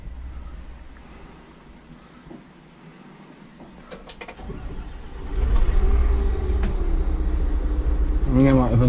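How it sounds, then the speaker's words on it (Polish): A city bus engine starts after a quiet idle and builds air pressure, turning into a loud, rumbling run with a rising whine near the end, with someone talking. "Dobra, odpalę go sobie, żeby nabić powietrze"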